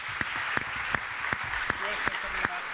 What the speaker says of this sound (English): I want everybody to keep clapping